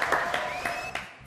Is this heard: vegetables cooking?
no